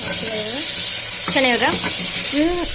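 Greens fry and sizzle steadily in a pan while being stirred, with close scraping strokes; a nearby voice briefly speaks over the cooking.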